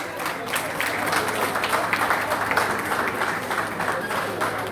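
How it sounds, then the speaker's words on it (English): Audience applause at a celebration party for a professor's promotion, a dense steady wash of clapping from a crowd that holds at an even level for several seconds with no speech over it. "I think they deserve a round of applause."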